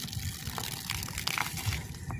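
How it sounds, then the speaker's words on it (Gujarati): Water runs steadily from a hose in the background outdoors near cows, a soft continuous gushing with faint scattered knocks and clicks, no talking. "જે પાછળની પાણી ચાલુ છે અત્યારે"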